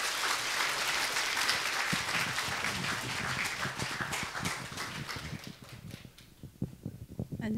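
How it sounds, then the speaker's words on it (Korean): A church congregation applauds to welcome a choir deacon before her testimony, sustained close clapping that gradually thins into separate claps near the end. "정말 힘차게 또 우리 집사님 간증 잘할 수 있도록 박수로 환영해 주시기 바랍니다"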